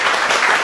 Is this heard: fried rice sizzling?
no